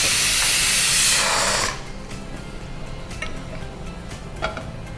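A pressure cooker on a stove, cooking for carrot payasa, lets out a loud, close, steady hiss of steam that cuts off after under two seconds, leaving quiet kitchen background with faint ticks.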